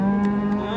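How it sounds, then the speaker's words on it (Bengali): A cow moos in one long, steady, low bellow that fills the whole moment, close by and fairly loud, at a cattle market in Comilla. "ওই দেখেন ওই গরুটারে নিয়ে যাইতেছে"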